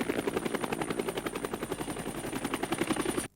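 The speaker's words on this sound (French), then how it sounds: "Tiens, un autre hélico." Helicopter in a 1993 action film, its rotor thumping in a fast steady rhythm, loud and close, with an engine whine running throughout until it cuts off abruptly at the end.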